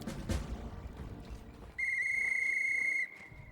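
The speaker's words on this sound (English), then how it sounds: "Pulling a whistle decorated with runes from his pockets, the dwarf brings it to his lips and produces a high-pitched drill." A dwarf in Pathfinder Wrath of the Righteous blows a rune-decorated whistle, giving one steady, piercing high-pitched tone held for over a second that cuts sharply above a busy, murmuring game background before stopping abruptly.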